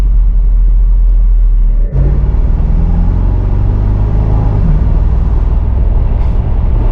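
Bentley Continental GTC Edition 8 V8 engine pulling hard from inside the cabin, a deep steady rumble that steps up sharply after a brief gear-change dip and keeps building, loud and continuous with no talking.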